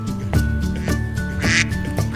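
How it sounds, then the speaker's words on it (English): A Mandarin duck quacks in a steady run of evenly spaced nasal calls, about four in two seconds, close and clear with no talk. "A Mandarin Duck."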